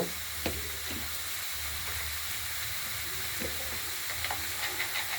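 Bottle gourd with salt and turmeric sizzling steadily in a kadai, with occasional stirring scrapes and soft clinks of the spatula over a constant frying hiss.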